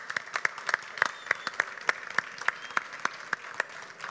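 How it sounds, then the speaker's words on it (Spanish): An audience at a gastronomy event claps in a steady, moderately close rhythm, with individual claps standing out above the soft patter of the wider applause. "Un aplauso, ¿no?"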